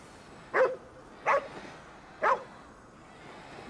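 A dog in the Ghostwire: Tokyo game barks three times with irregular gaps, short and fairly close against quiet background, without talking.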